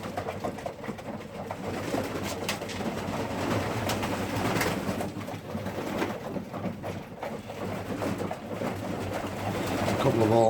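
Racing pigeons in a loft coo softly and steadily during morning feeding, with someone speaking over the low, continuous murmur of the birds.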